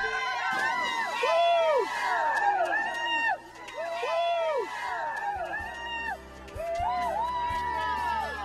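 Friends cheer, whoop and shout excitedly after Kyle jumps from a ledge, with overlapping voices and yelps rising and falling close by, plus a brief lull midway before the noisy celebration picks back up.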